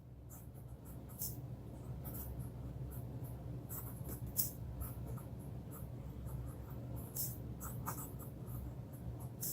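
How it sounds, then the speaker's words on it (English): Pilot Custom 74 fountain pen with an SF nib writing on paper: faint, close scratchy strokes in a rapid, irregular rhythm over a steady low background hum. "And a quick writing sample."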